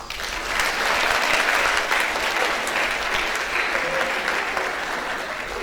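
Sustained applause from an audience at a college of education graduate induction ceremony, a dense steady wash of many hands clapping throughout, fairly loud and unbroken.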